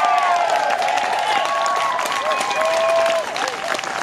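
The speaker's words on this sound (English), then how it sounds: "Give them a round of applause." Loud, continuous crowd applause at an outdoor community event in honor of the local police department, with cheering mixed in, and voices and whistles sounding over the dense clapping.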